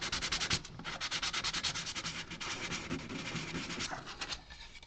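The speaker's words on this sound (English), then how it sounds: "this hand sanding is actually making a really, really big difference" Hand sanding on a carved model platform: steady rhythmic back-and-forth strokes of sandpaper rubbing the surface, close and fairly quiet, with no talk.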